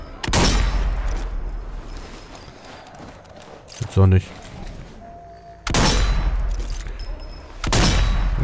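Bursts of rapid gunfire from Zombie Army 4 erupt in loud blasts separated by quieter stretches, with a brief voice and a rattling burst midway.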